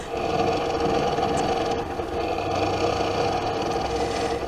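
A longarm quilting machine stitches in a steady, fast, continuous mechanical whir with a rapid needle rhythm, loud and close, sped up, with no talking.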